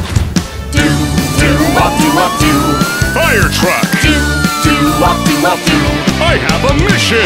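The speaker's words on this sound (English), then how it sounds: "Here I come, the brave fire truck!" A siren-like tone sweeps up and down over loud, bouncy music with a steady beat, continuing throughout.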